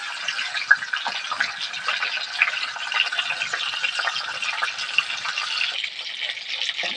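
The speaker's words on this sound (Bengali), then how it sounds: "এবার মাছের মাথাগুলো একটু ভেজে নেবো।" Fish heads fry in hot oil for a Bengali village-style chire muro ghonto, giving a steady, close crackling hiss with light spitting and popping throughout.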